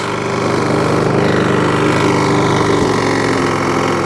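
A Toro lawnmower with a Briggs and Stratton engine running steadily after a repair, a loud, close, even drone with a fast regular firing pulse.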